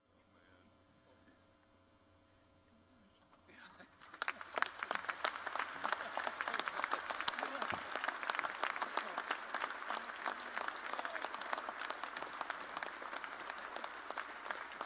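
Applause at a celebration-of-life memorial for former U.S. Senator Alan K. Simpson, starting after a quiet stretch with a low mains hum, then rising into sustained, fairly distant and soft clapping from a large crowd.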